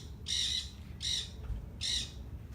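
Laughing gulls call at a seabird rescue facility, many of them injured birds, giving three loud, shrill squawking calls spaced evenly about a second apart over a low background rumble.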